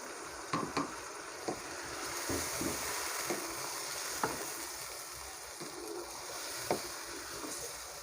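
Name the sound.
mixing chicken into biryani masala with a spoon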